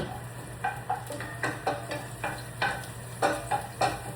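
Garlic sizzles in refined olive oil in a pan under a constant low fry, broken by a rhythmic series of scraping, stirring clinks from a utensil against the pan.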